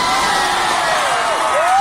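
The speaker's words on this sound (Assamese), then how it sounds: "গতিকে সকলোৱে এবাৰ বাইদেউৰ কাৰণে হাত চাপৰি বজাব লাগে" A college audience at a cultural program claps and cheers for their vice principal, a loud, dense wash of applause with whoops and shouts running steadily throughout.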